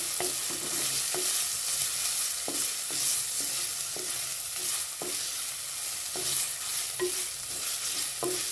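Ginger and garlic fry in a pan with a continuous bright sizzle, punctuated by regular scraping knocks of a spoon stirring roughly once a second, close and steady with no talking.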